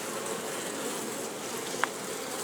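Honey bees at an apiary in July make a steady, dense buzzing hum that fills the whole moment, fairly loud and close, with one brief faint tick near the end and no voices.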